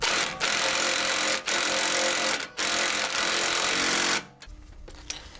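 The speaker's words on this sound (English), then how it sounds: "I'm going to cheat and use my impact socket with a little swivel head adapter here." An impact wrench with a swivel adapter drives a BMW X5 E53 front lower control arm bolt, giving three long, loud, close hammering bursts with short gaps between them before stopping into quiet.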